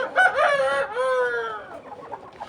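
A rooster crows loudly and close by in a chicken coop, a single drawn-out call with hens clucking around it.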